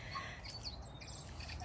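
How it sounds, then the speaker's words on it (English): Birds chirp in a tree outside, with light, scattered high tweets over a steady low background hum. "And I have beautiful birds in my tree,"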